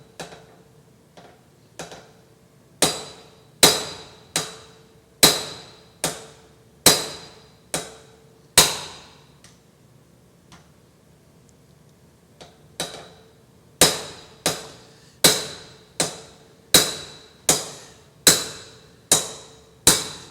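A blacksmith strikes a punch held in pliers with a hammer, sharp ringing metallic blows in an even rhythm, a few light taps followed by a long run of loud regular strikes, close by with no talking.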